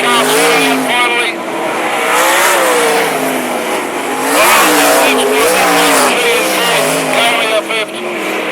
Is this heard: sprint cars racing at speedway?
yes